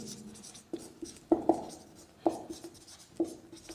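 Marker or chalk strokes on a board during an anatomy lesson on the carotid pulse, a few short squeaky bursts spaced irregularly, close and fairly quiet, with no talk.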